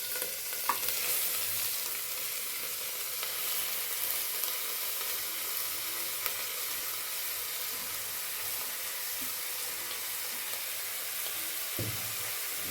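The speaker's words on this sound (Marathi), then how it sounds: "छान तुपावर गाजर छान परतून घ्यायचे मस्त." Grated carrots fry in ghee in a pan, giving a steady close sizzle with occasional soft stirring scrapes and clicks throughout.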